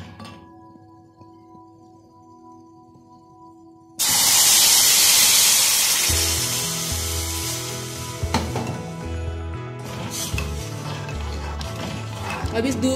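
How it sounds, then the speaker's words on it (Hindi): Milk poured into a hot pan of roasted spices for turmeric golden milk, bursting into a loud, broad sizzle and hiss that slowly eases into steady bubbling frying under background music. "अब जिसमें से खुशबू आ रही है इसमें हम दूध डाल देंगे।"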